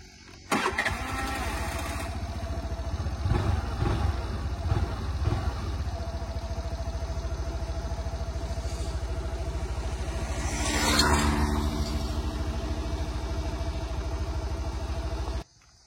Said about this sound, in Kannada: ಸೊ ಈ ಗಾಡಿ ಸ್ಟಾರ್ಟ್ ಮಾಡಿದ್ರೆ ಯಾವ ಥರ ಸೌಂಡ್ ಬರುತ್ತೆ ಅಂತ ಕೇಳಿಸ್ತೀವಿ